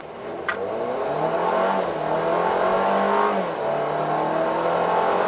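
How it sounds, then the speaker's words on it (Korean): A Mercedes-Benz GLB250 4Matic engine revs up and accelerates in comfort mode, the pitch climbing and falling across a few gear-like sweeps, fairly close, with no talking. "근데 이제 엔진 사운드는 지금 직접 듣기에도 좀 다르죠."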